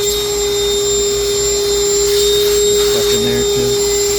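A Ryobi 18-volt cordless vacuum whirs with a steady, loud motor drone aboard a trawler boat, running continuously with slight pitch shifts near the end.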